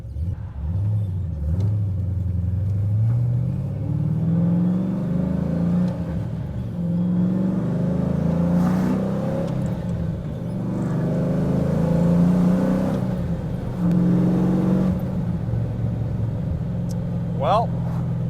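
A Pontiac GTO engine idles with a deep rumble, then revs up and settles in several rising and falling swells, with a person talking over it for most of the time.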